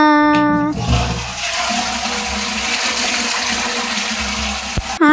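Water is poured from a pot for a bath in a steady splashing stream lasting several seconds. A brief hummed tone comes first, and a sharp knock follows near the end.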